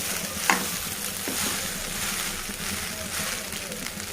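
Leftover rice with potato, garlic and peas frying and being stirred in a pan, giving a dense, steady sizzle close by with occasional soft scrapes.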